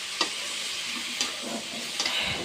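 Prawn curry with cauliflower and eggplant frying in a pan, a continuous sizzle broken by a few stirring scrapes at regular intervals, with no talk.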